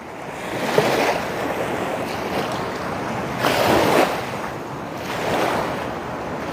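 Water from the Rondiha dam near Durgapur rushes and surges like sea waves, a loud continuous roar that swells in broad pulses, with wind buffeting the microphone.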